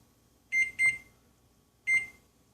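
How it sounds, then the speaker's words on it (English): Three bright electronic beeps from a kitchen timer being set while poblano peppers steam in a covered bowl, two quick beeps close together then a third after a pause, clear and close in a quiet room. "And I'll just set the timer here for 10 minutes."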